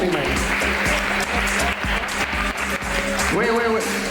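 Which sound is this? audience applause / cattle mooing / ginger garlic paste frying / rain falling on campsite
audience applause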